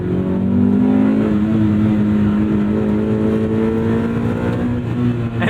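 A 1998 Honda Civic Type R EK9 engine revs hard past its VTEC crossover, a loud, sustained high-pitched wail climbing steadily with no talk over it.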